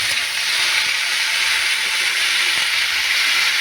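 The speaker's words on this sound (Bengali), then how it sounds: "বেগুন আলুটা ভেজে নিচ্ছি" Eggplant and potato pieces fry in hot oil in a pan for a village-style pumpkin greens curry, producing a loud, continuous sizzling hiss that holds steady throughout with no speech.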